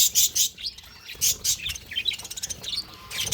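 A colony of pet birds in an aviary chirps in quick, overlapping bursts, bright tweets close by and continuous, with a faint flutter of wings and no talking.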